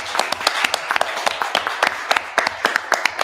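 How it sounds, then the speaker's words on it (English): Audience applause for participants at a conference on migration in Europe: a moderate ripple of individual hand claps, fairly sparse and uneven, from a small seated crowd. "I'm going to ask for an applause for our participants, but also to the warmest applause for the organizers"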